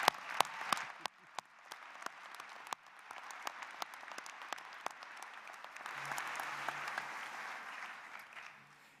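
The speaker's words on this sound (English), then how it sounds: "Let's give her another round of applause." A commencement ceremony crowd claps in a steady, sustained round of applause that swells slightly toward the end, with a few sharper individual claps standing out.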